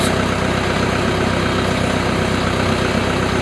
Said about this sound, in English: I don't know if you can hear me over the engine.